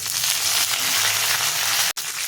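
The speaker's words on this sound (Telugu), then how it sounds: "సో ఇప్పుడు కొంచెం కరివేపాకు వేస్తున్నాను" Curry leaves sizzling in hot oil for a tempering on a low flame, a loud continuous hiss and crackle with a brief break near the end.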